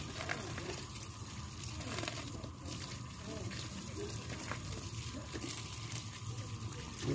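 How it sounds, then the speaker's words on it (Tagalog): Water running while freshly harvested vegetables are rinsed: a steady, fairly close gushing stream, with voices faintly underneath. "So, huhugasan muna natin ito."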